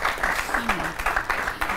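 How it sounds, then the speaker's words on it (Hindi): An audience applauds sitar player Mahesh Kumar at a gathering about blind people's fight for equality, with dense, even clapping throughout and a faint voice briefly underneath. "महेश जी के लिए भी जोरदार तालियां एक बार फिर से हो जाए"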